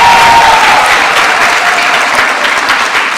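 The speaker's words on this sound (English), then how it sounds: "So after I say their names, let's practice applauding." Graduation audience at an eighth grade ceremony claps for a teacher, a loud, dense wall of applause held close throughout with a faint whistle-like tone near the start.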